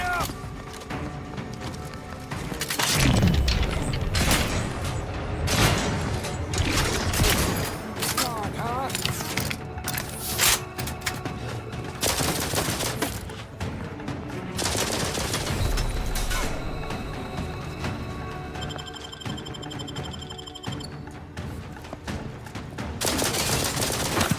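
Shotgun blasts ring out in the video game The Outer Worlds 2, loud bursts scattered through a long stretch of combat with other gunfire and effects, and talk now and then.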